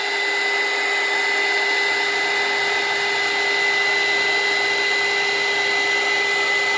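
A heat gun blowing steadily while heating a thermal fuse, a loud, constant fan-and-air hiss with a fixed whine, holding unchanged throughout with no talk.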